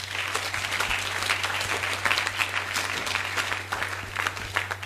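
A church congregation claps steadily for Jesus Christ during an all-night Friday prayer service, dense continuous applause over a low steady hum, with faint voices mixed in.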